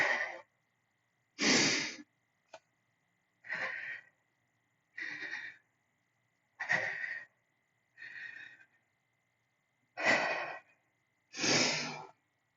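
Heavy, deliberate breaths during a plank exercise, about nine separate inhales and exhales in an even rhythm with quiet gaps between them, close and fairly soft with no talking.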